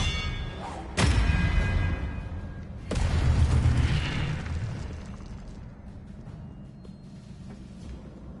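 Two heavy booming blasts from spells cast in a video game, the first at about one second and the second at about three, each with a long rumbling decay, heard alone without talk.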